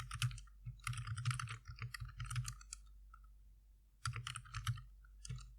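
Computer keyboard typing in a terminal, heard as two close bursts of rapid, uneven key clicks separated by a short pause, fairly quiet with no talk.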